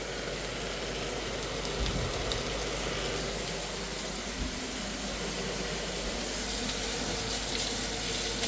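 Hot water pours steadily from a kitchen tap, a loud continuous broadband rush with only slight variation and no voices over it.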